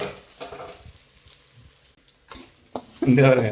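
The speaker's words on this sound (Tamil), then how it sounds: "தோசை கரண்டி வச்சு கிண்டிட்டு இருக்கேன்" A dosa ladle stirs food in a pan over the heat, with a brief scrape and then a loud sizzling burst near the end, heard close up while a person speaks over the start.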